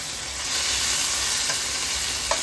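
Garlic and vegetables fry in a pan with a steady, close, bright sizzle and hiss that continues evenly without pause, no voices over it.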